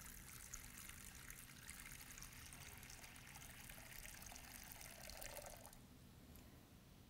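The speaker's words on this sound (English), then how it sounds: "So as I pour this water" Water pours for a baptism by sprinkling in a church, a steady, soft trickling stream running for several seconds and then easing off, heard alone and fairly faint.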